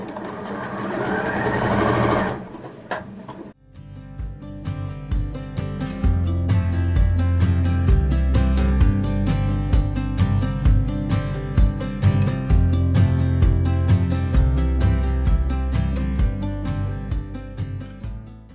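A sewing machine stitches a dress lining close up: a short whirring burst, a brief stop, then a long rapid continuous run of stitching with a low motor hum, and no talking.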